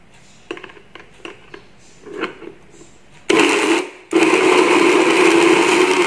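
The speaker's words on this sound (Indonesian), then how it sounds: "Blender dulu." A kitchen blender blending shrimp, tofu and garlic starts after a few light clicks and knocks, runs loudly and steadily, cuts out briefly, then roars again without pause to the end.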